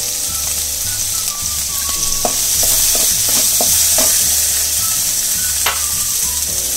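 Small pieces of onion and four or five garlic cloves sauté in a hot pan with oil, giving a steady, close sizzle with a few stirring taps, under background music.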